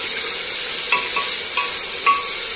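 Tomatoes being sautéed in a pan for shrimp dalma, a steady, soft sizzle with a few light stirring scrapes and taps, close and alone.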